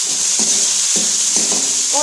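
Onions sizzle steadily in hot mustard oil in a pan for a Pakistani-style liver curry, a loud continuous hiss broken by a few soft stirring clicks from a utensil.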